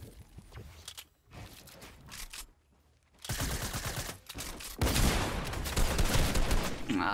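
Bursts of video game gunfire in Fortnite from a shotgun, an SMG and an assault rifle, starting as sporadic shots and rising to dense, loud rapid fire in the second half.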